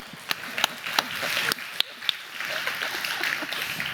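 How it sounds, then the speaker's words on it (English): Scattered clapping from a tech conference audience at a Ruby programming talk, a few sharp distinct claps early that thicken into light, sparse applause, quiet and somewhat distant. "Please clap."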